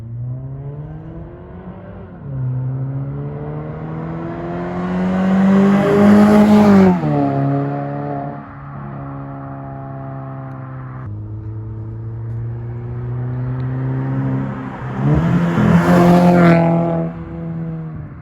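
A 2015 Mazda 6 fitted with a custom straight-pipe single-exit exhaust revs loudly and close up, with two distinct throttle blips that climb in pitch and drop back to a steady, raspy idle.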